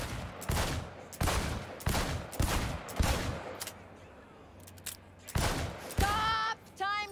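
Cyberpunk 2077 shooting competition gunfire: sharp, loud single shots in a quick irregular series, a short pause, then a few more shots, followed by electronic chirping tones at the end.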